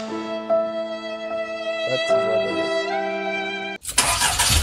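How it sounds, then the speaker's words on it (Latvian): A BMW M3 convertible, a used car for sale in Jelgava, Latvia, gives a steady tonal whine and chime as the ignition is switched on, then its engine suddenly catches and fires with a loud, rough burst at the end. "Uzreiz piešķilsim klāt šo maziņo."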